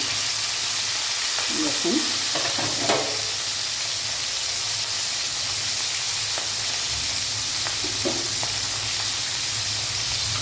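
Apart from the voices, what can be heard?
fish frying in oil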